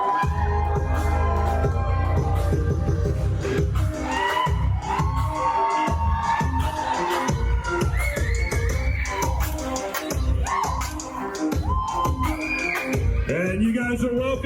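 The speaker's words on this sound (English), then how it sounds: "One more big round of applause, if you will, for Madison and Glenn." Cheering and whoops from reception guests for a newly married couple, loud and continuous with a steady crowd roar and scattered shouts, music-like tones mixed in throughout.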